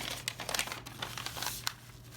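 Thrift-store upholstery fabric being folded into an inverted double box pleat gives close, crisp crinkling and rustling bursts.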